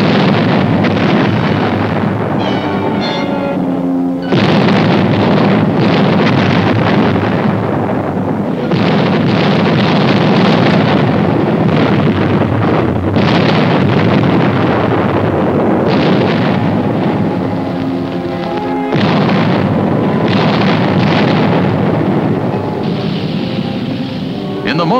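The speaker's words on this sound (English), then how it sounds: "Our artillery engaged in a duel with enemy guns." An artillery duel with enemy guns during the WWII invasion of southern France sounds as heavy, rumbling booms and blasts that roll on continuously beneath dense, noisy, wind-like old film soundtrack noise.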